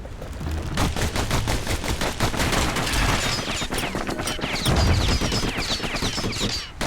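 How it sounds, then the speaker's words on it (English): Dual slinger pistols firing in the Bastion video game: a loud, rapid, nearly continuous stream of sharp shots with no pauses and no talking. "Know what's better than having a slinger pistol in a fight? Having two."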